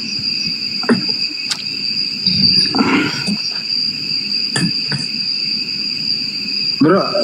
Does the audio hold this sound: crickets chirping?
yes